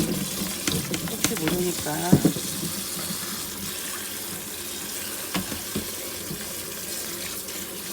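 Cucumbers are rinsed under a running kitchen tap, a steady hiss of water into the sink with a few splashes and clunks as the vegetables are handled, while a voice speaks briefly near the start.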